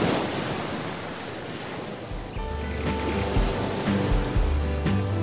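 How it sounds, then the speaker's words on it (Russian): Stormy sea waves crash on the shore at Paleokastritsa, Corfu, a loud, continuous roaring surge with wind. Some steady tonal hum joins partway through. "Ночью разошелся шторм, волны просто гремели, шумели."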